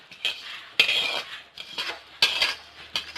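A metal spoon scrapes and clinks against a dish while mixing roasted sesame for sweets, in several short bursts, close and crisp, with quiet gaps between strokes.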